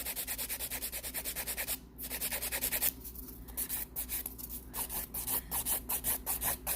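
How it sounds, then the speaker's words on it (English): A hand file works an encapsulated 3-D acrylic flower piece in quick, close, rhythmic scraping strokes that pause briefly now and then and come back. "All right, so we're gonna file it."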